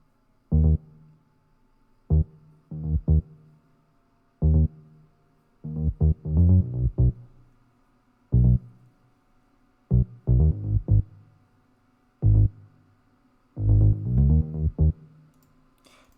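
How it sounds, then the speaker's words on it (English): A groovy synthesized sub bass line built away from a Moog plays alone as short rhythmic plucked notes in syncopated clusters, loud and close with a deep low end. "it's probably the best bass sound I've ever been able to create away from my Moog"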